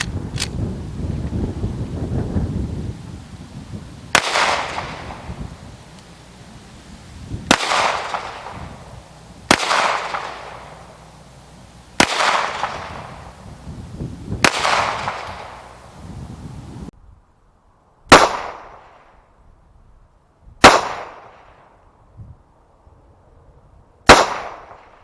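Walther PPQ Q5 Match pistol fired at 7 yards on an outdoor range, eight sharp, loud shots spaced a few seconds apart, each with a decaying echo, over steady wind noise.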